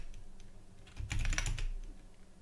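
A short flurry of computer keyboard clicks, quiet and close, rising briefly over a soft background hum before fading.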